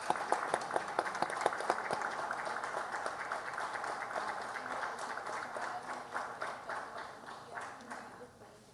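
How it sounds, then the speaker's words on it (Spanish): Audience applause fills a press conference hall, opening with a few distinct loud claps over a dense, steady wash of many hands that gradually thins and fades. "Fuerte aplauso, por favor."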